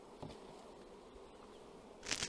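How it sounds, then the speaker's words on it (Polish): Honeybees buzz steadily at a Dadant hive in a close, dense hum, with a louder burst of buzzing near the end. "Pszczoły weszły do nadstawki, więc widać, że siła jest w miarę odpowiednia"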